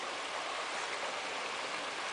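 A small creek in Pennsylvania restored for wild brook trout flows past close by, giving a steady, even babbling rush of water with no other sounds.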